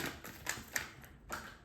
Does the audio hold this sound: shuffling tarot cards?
yes